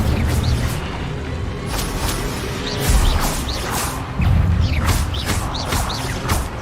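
The Incendio fire spell cast repeatedly in a Harry Potter video game: loud, dense bursts of whooshing flame and rumbling impacts, with crackling swishes layered through continuous game effects and mechanisms.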